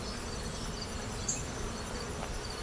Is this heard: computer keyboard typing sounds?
no